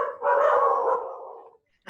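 A dog lets out a single drawn-out bark that stretches into a fading, howl-like tone, heard loud and close during an online Rotary club meeting, followed by a short silence.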